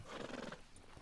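A horse in the video game Red Dead Redemption 2 gives a short, faint neigh with a hint of hoof movement, brief and low in level with no talk over it.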